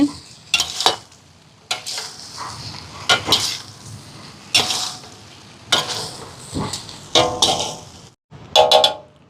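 Torn string hoppers being stirred and tossed in a pan for prawn kottu, giving repeated bursts of scraping and clinking from a spoon against metal, with short pauses between strokes and no talking.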